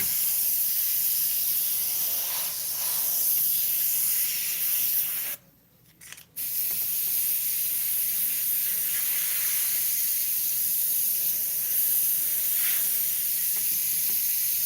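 An airbrush with a Micron head sprays black paint in a long, steady, close hiss that briefly cuts out for about a second midway before resuming at full strength.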